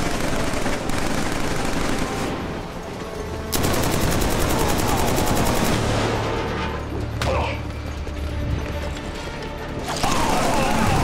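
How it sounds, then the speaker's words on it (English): Bursts of suppressing gunfire in the shooter Killzone 3, loud rattling volleys starting and stopping in several bursts with short pauses between, layered with heavy booms and game effects. "They're using suppressing fire."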